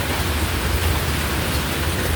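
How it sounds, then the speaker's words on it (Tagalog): Heavy rain pours down steadily and loudly, a dense, unbroken wash of noise with a low rumbling undertone, with no voices. "Sobrang lakas ng ulan"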